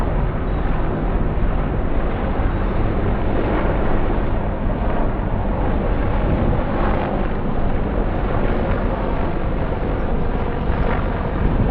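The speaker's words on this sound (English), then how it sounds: "why would there be 5 Army helicopters?" Several Army helicopters pass overhead outdoors on a hot day in Rochester, a steady, loud, broadband rotor and engine roar that holds without a break from start to finish, mixed with some wind rumble and no talking.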